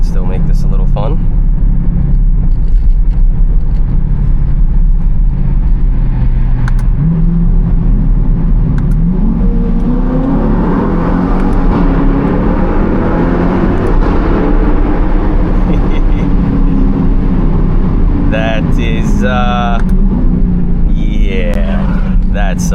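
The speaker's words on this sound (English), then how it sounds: "I'm just enjoying that nice V8 sound" Modified Chevrolet C8 Corvette V8 pulling steadily while driving through light traffic, a continuous loud engine drone that swells in the middle and holds throughout, with a voice talking over it near the end.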